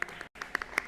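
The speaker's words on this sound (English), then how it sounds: "Round of applause for our amazing panelists." A short burst of audience applause for the panelists at a business-week event, many hands clapping close and steady, cut by a brief silent gap.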